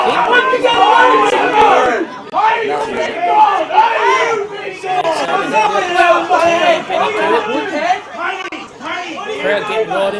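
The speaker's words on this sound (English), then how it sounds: "Crowd getting right into it" A football crowd at a Great Southern Football League match between North Albany and Mount Barker at Collingwood Park shouts and roars continuously, a dense, loud wall of cheering voices and yelling that rises and falls for the whole stretch.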